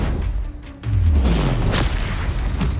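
A Confringo blasting spell explodes in Hogwarts Legacy with a sudden deep boom that swells and rumbles on, following a brief quieter moment of spell effects.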